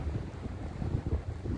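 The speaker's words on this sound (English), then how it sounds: "I'm sorry there's a lot of wind" Strong outdoor wind buffets the microphone with low rumbling gusts that swell and fade, and no one speaks.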